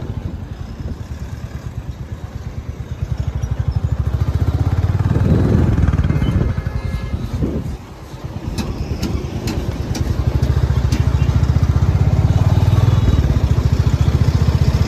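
A motorcycle engine runs steadily while riding into a highway toll plaza lane on NH12, loud and close throughout with a brief dip midway.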